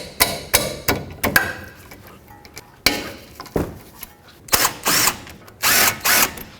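A socket wrench works on the 12mm caliper bolts of a 2009-2014 Honda Fit front brake, giving a run of clicking, clanking metal taps followed by louder bursts of ratcheting near the end, with no talk.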